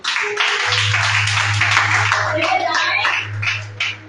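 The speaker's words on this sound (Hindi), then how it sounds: "जोरदार तालियां के लिए" A church congregation at a Mother's Day worship service bursts into loud applause, with a low hum running underneath and a few voices mixed in.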